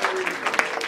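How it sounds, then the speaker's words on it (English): Audience at a comedy hypnosis show clapping, a brief dense burst of applause from a crowd, loud and close, with voices faintly mixed in. "Give him a round of applause, ladies and gentlemen"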